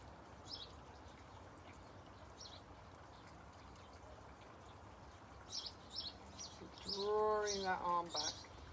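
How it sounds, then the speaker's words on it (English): Baby birds tweet in short, faint, high chirps in the distance, scattered throughout and growing busier toward the end, while a voice speaks close by. "I can hear those baby birds tweeting away."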